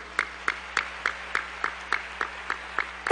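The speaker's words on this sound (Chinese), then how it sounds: "掌声给他们。" Sparse, evenly spaced claps at a conference gathering, about eleven sharp strikes in steady rhythm, fairly close and moderately loud with no talk over them.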